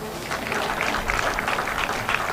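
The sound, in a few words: audience applause for the honorable minister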